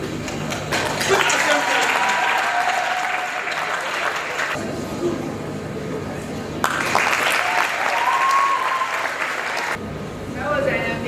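Applause from a school assembly audience for a drama students' anti-bullying performance, loud and dense, with abrupt cuts and shifts in texture and some tonal sound or voices mixed into the clapping.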